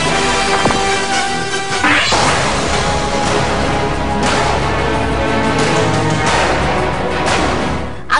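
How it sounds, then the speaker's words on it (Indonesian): Masked men smash a car window during a robbery attempt: a loud crash and several heavy whacks and thuds come over dense, continuous noise, with close impacts around the second and fourth seconds. "Hingga akhirnya pria-pria bertopeng tersebut melarikan diri setelah menghancurkan kaca mobil milik Dinesh."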